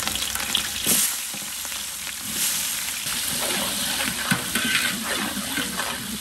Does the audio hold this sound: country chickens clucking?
no